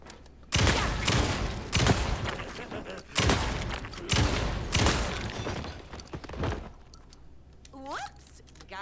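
A shotgun, the boomstick in Alan Wake 2, fires four loud, sharp blasts spaced about a second apart, each with a lingering echo, followed by quieter clicks and a short rising tone, with a voice briefly heard.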